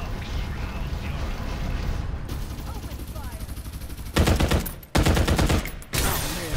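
Gunfire in the battle royale shooter Farlight 84, a steady low rumble of combat under talk, then two loud bursts of rapid shots toward the end, each cut by a brief gap.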